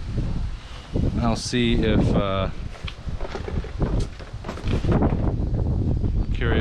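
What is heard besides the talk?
wind blowing outside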